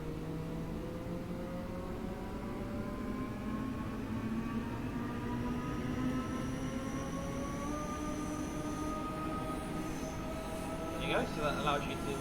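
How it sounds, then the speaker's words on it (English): Electric train traction motors in Train Sim World 2 on the Cathcart Circle route whine steadily, their tones slowly climbing in pitch as the train accelerates over a constant rolling rumble, ending with a few brief clanks. "So that allows you to listen to the traction motors, which sound very nice indeed, quite inviting."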